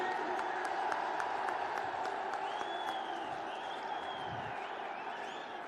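A large crowd at a political rally claps and cheers to welcome Narendra Modi in West Bengal, a dense, steady roar of applause with whoops, while a voice over loudspeakers carries on above it.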